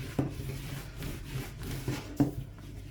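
A wooden rolling pin works hand-rolled börek dough, turned over and floured between passes, giving soft rubbing rolls with a few duller knocks as the pin lands on the board, close and fairly quiet.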